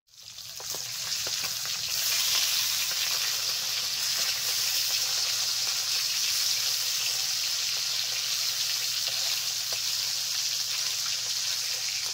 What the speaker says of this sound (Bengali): তেল ভালো করে গরম হয়ে গেছে, হলুদ লবণ মেখে রাখা মাছগুলো ভেজে নিচ্ছি।